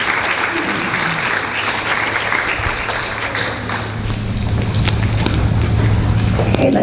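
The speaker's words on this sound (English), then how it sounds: "let's give them another round of applause" An audience at a fifth grade school celebration applauds steadily, a dense, sustained wash of clapping from many hands in an indoor hall, swelling slightly toward the end.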